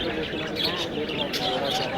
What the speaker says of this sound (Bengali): এই যে হচ্ছে জোড়া লাভবার্ড পাখিগুলো